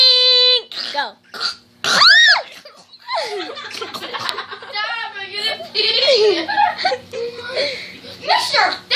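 Burps in a children's burping contest, several short croaky belches mixed with kids' laughter, squeals and excited chatter, loud and close throughout.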